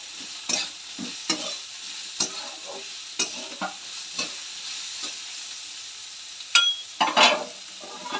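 Vegetables sizzle in a pan in a home kitchen while a spoon stirs and scrapes them in irregular strokes, with a steady frying hiss underneath and louder clattering scrapes near the end.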